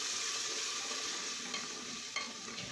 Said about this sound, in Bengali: জল দিয়ে দিয়ে মশলাটা কষাতে থাকবো।